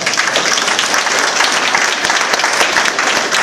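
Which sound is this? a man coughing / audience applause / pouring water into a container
audience applause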